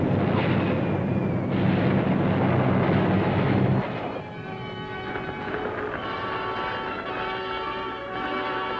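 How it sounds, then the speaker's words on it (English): Anti-aircraft flak bursting around B-24 bombers on a raid over Romanian oil fields, a dense roaring barrage of distant explosions blended with droning aircraft engines, loud and continuous throughout with no voices. "the enemy answers, jamming up thousands of rounds of flak."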